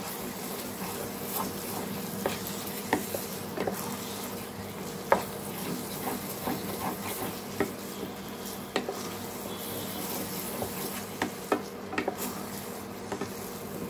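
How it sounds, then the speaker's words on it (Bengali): Masala being stirred in a pan while cooking Kerala-style mutton curry, a steady low sizzle with irregular scraping clicks from the spoon repeating throughout, close and moderate, no talk. "ভালো করে মিক্স করবো, নাড়তে হবে বারবার যাতে তলায় মশলাটা লেগে না যায়।"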